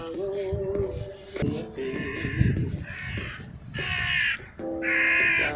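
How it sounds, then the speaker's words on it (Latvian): A crow caws repeatedly: harsh, loud calls in uneven bursts, some coming in quick runs, with no other sound competing. "vārna bļauj"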